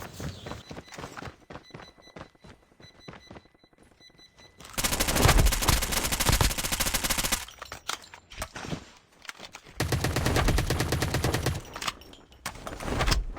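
Bursts of automatic gunfire from the mobile shooter Call of Duty Mobile, loud rapid volleys in two long stretches with quieter scattered shots and game noise between them, no talking.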